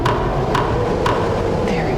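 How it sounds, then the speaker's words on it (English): Three evenly spaced hammer knocks on wooden planks being nailed over a window in the horror game Suffer the Night, close and sharp over a steady low background hum. "I have to board up this window. There's a hammer and some wood planks in the garage."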